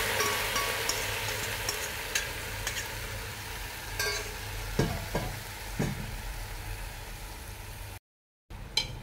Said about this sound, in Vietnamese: Bây giờ mình sẽ đảo đều lên cho vịt nó săn lại nha cả nhà.